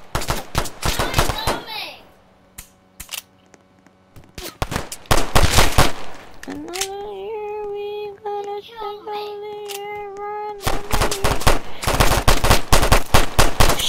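Video-game gunfire shot into the sky, loud rapid bursts of automatic fire that pause for a stretch and then resume in dense volleys, with a voice talking in between.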